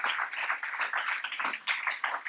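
An audience claps together at a talk session, making a dense, even patter of many hands for a couple of seconds without any voices.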